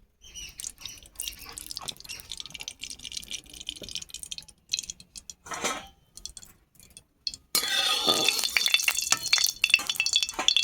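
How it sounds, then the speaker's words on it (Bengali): White oil heats in a kadai, starting as sparse crackles and spits that grow into a loud, steady close-up sizzle in the final few seconds. "কড়াতে সাদা তেল দিয়ে দিচ্ছি"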